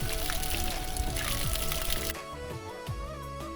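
Icy drinking water streams from a mountain spout in a continuous close pour, loud and splashy for about two seconds before the flow sound drops away, leaving softer trickling with faint tones.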